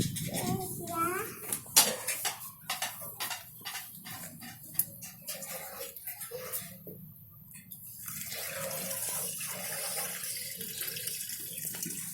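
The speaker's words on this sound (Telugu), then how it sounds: "నీళ్ళు వస్తున్నాయి, అక్కడ సింక్ దగ్గర" Water runs from a sink tap, a soft steady flow heard beneath children's voices and clinking dishes, with a faint dog nearby.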